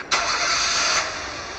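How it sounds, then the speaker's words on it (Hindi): A car engine starting up inside the Evil Nun horror video game, a single loud turnover that settles into a steady running drone, heard on its own. "तो ये कार की आवाज़ कहाँ से आ रही है?"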